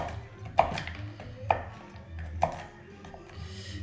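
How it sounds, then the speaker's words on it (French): A knife chops a mix of almonds and pecans on a board in three spaced, crisp strikes, with faint scraping between them, close and clear with no talking. "Et je vais un peu hacher le tout."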